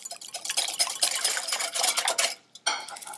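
Chocolate cupcake batter of milk, vanilla extract and sour cream is stirred briskly in a bowl, a utensil clinking and scraping steadily and close, pausing briefly near the end before resuming.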